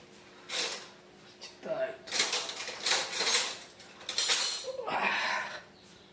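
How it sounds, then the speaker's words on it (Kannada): A spoon is fetched in a home kitchen, making several bursts of metallic cutlery clatter and rattling, like a drawer being rummaged. Someone speaks between the bursts. "ಓಕೆ, ಸ್ಪೂನ್ ತರ್ತೇನೆ, ಒಂದು ಸ್ಪೂನ್"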